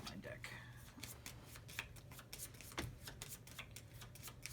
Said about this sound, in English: And I can shuffle my deck.